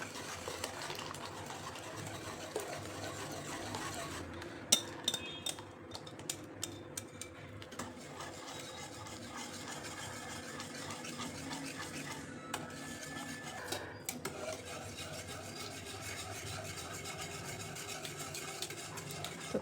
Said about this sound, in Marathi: आपल्याला सारखं हलवत राहायचं